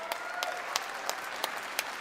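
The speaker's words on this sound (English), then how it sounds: "Hey, you're clapping now." Concert audience clapping after a song, sparse and scattered claps at a steady rhythm, roughly one every third of a second, fairly quiet and heard alone.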